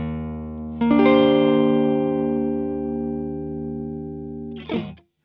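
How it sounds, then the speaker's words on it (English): Electric guitar amp driven hard with a Rodenberg 707 clean boost: one strummed chord rings out thick and sustained, slowly fading, before a short scraping string noise cuts it off near the end. "boost the front of your amp with a clean boost, which is what I'm going to do now with that Rodenberg 707 clean boost"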